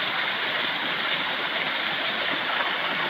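Steady, dense rush of falling water at Tat Ton waterfall, Thailand, loud and continuous with no breaks, like standing close beside the falls.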